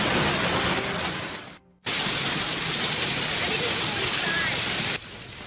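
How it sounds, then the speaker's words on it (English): Heavy rain mixed with hail pours down at the Lehigh Valley Mall in Whitehall Township during a hailstorm, a loud, dense steady roar with one brief drop near the start and a slight easing at the end. "There was hail mixed in with the rain today at the Lehigh Valley Mall in Whitehall Township."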